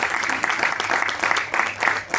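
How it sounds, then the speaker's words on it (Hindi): A university audience at a Buddha Jayanti lecture gives a welcoming round of clapping, a short uneven patter of hands with soft pulses, no speech over it. "जोरदार तालियों से"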